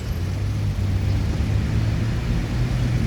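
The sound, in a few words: Sinar Jaya bus driving into the terminal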